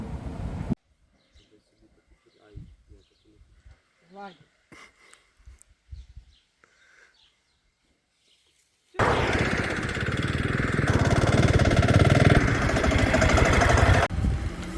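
A KMZ Dnipro 300 motorcycle with a diesel engine runs loud and steady at close range for the last several seconds, after a stretch of quiet talk with only faint background noise.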